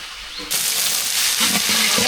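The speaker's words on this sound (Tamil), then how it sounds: "இப்போ ரவை வந்து அப்படியே வதக்கி எடுத்துக்கலாம்" Rava (semolina) hits a hot pan of tempering with curry leaves and starts to sizzle. A loud, steady frying hiss begins abruptly about half a second in, with soft stirring scrapes toward the end.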